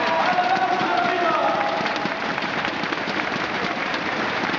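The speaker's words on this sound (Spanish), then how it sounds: "¡Aplausos arriba!" An indoor arena crowd claps and cheers continuously at a motorcycle trial exhibition, a dense, even wash of applause with no single clap standing out, and voices mixed in.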